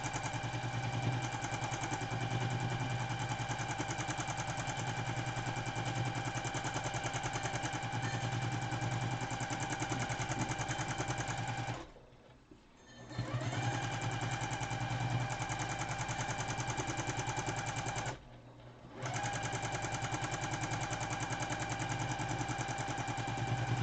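A sewing machine stitches an outdoor star quilt in a fast, steady mechanical whir that runs almost continuously, stopping briefly twice before resuming.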